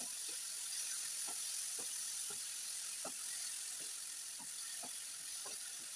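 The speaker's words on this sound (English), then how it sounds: "going to fry my onions until they are done" Onions frying in a pan for a home lunch in Zimbabwe, with carrots, baby mallows and tomatoes added, give a steady broadband sizzle throughout, scattered with small pops and crackles of spitting oil.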